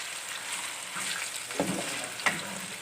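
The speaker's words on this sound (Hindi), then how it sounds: "अब मैं इनमें सबसे पहले बटेर ऐड करूंगी। बटेर को फ्राई करेंगे" Quail frying in a karahi with onions, a steady soft sizzle with faint crackling and a couple of sharper pops, close and moderate in level, no talking.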